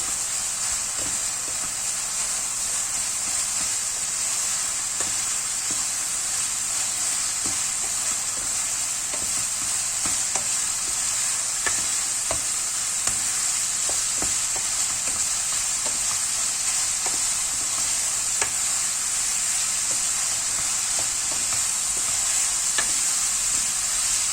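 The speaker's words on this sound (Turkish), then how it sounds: "Şimdi bunu güzelce karıştıracağım." Stuffed potato filling seasoned with red pepper flakes and black pepper sizzles steadily in a hot pan, with soft scraping of a spoon as it is stirred throughout, close and continuous with no talking.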